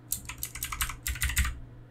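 Keys clatter on a computer keyboard while someone plays a keyboard-controlled TIC-80 game, a steady patter of quiet clicks in two short bursts.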